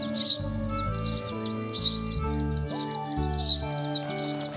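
Sparrow chicks in a cartoon give quick, high, repeated chirps in bursts over a tonal background music bed. No one speaks.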